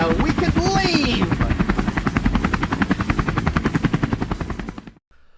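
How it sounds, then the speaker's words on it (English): A helicopter arrives in a Minecraft roleplay game, its rotor thudding in a steady rapid chop that stays loud and close for about five seconds, with a voice briefly heard near the start, before cutting off abruptly. "I could explain how I hacked a helicopter remotely piloted here"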